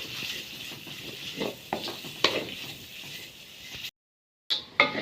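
Vegetables and chicken stir-fry for kothu rotti, a constant sizzle broken by scraping stirs of a utensil in the pan, a brief silent cut, then more sizzling and stirring.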